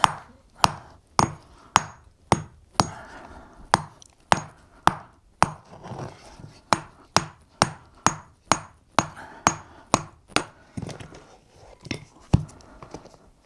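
A stonemason dressing stone for a façade, striking with a hammer in a steady run of about two dozen sharp, close, ringing blows at a roughly even rhythm, with brief gaps and faint background noise between strikes.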